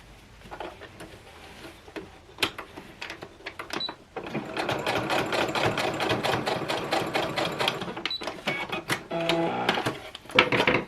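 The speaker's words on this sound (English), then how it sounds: "I like to sew along these edges" Sewing machine stitching along the edges of a fabric face mask made with Hydroknit and a HEPA filter, a fast steady mechanical rattle that starts quietly, then runs loud and continuous after a brief pause.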